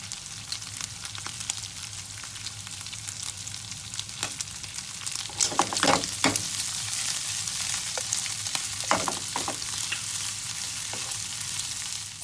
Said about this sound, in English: now we're just going to add a little bit of parsley and just give it a gentle mix